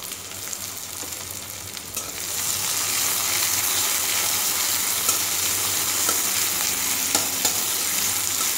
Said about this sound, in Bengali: এবার এই তেলে আমি পেঁয়াজগুলো দিয়ে দিলাম, পেঁয়াজটা যাতে ভাজা হয়ে যায় তার জন্য একটু নুন দিয়ে দিলাম।